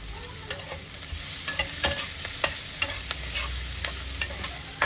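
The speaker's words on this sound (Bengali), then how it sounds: "পেঁয়াজগুলোকে একটু লাল লাল করে ভাজতে হবে।" Onions frying in a hot pan with a little black pepper give a steady close sizzle, with sharp clicks and scrapes from stirring scattered throughout.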